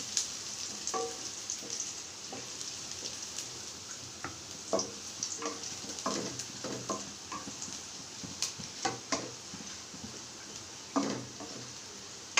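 Chopped ginger and garlic frying in a pan, with a steady soft sizzle broken by scattered sharp clicks and scrapes as a utensil stirs, close and fairly quiet with no talking.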